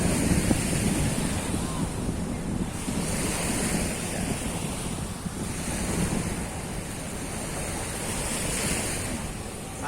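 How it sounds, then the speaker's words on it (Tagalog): Strong surf at Dolomite Beach ahead of an approaching storm, with waves crashing continuously under heavy, gusting wind that buffets the microphone in a dense, unbroken roar. "Alon ano yung alon malakas dahil nga po sa dala ng paparating o may bagyo, malakas ang hangin"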